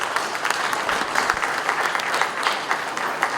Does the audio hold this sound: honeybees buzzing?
no